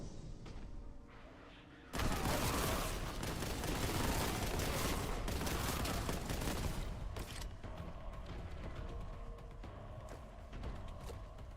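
A heavy bolter fires in the video game Warhammer 40,000: Boltgun as a loud, dense, sustained fusillade of rapid booming shots that runs for several seconds and then tapers into scattered blasts.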